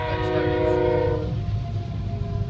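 Train passing at a grade crossing in Western New York at night, its horn blaring loudly with steady tones that cut off after about a second, leaving rumbling wheel noise.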